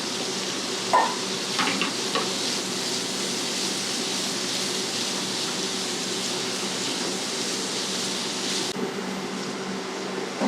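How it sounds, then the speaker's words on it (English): Steady broadband sizzle of sweet peppers sautéing in a hot pan, with a couple of faint stirring clinks early on, continuous and moderately loud. "So right now I'm gonna add my sweet peppers in there. Get it sauteed up a little bit"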